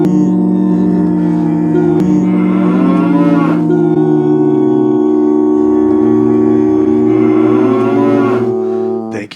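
Several voices sing a long, sustained cow-like moo together in harmony, loud and close, imitating cattle onstage at a rock band's live gig in Chicago.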